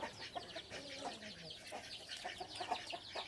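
Chickens cluck softly and intermittently as they come into their pen, several birds making short scattered calls at moderate distance against quiet background.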